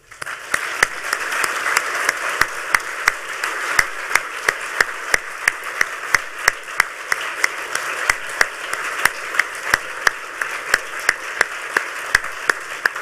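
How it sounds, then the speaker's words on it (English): Audience applause for Jacob Appelbaum after a WikiLeaks keynote at the Next HOPE hacker conference: a full room clapping steadily and densely for the whole stretch, sharp individual claps popping out over the wash, without talk. "I'd like to join in a round of applause for Jacob Ackelbaum."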